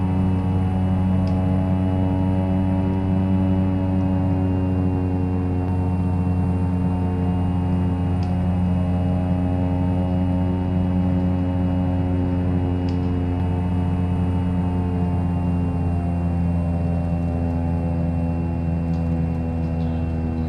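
A small propeller airplane drones steadily on approach with flaps partly extended, a loud, constant engine tone with strong harmonics throughout, close and unbroken.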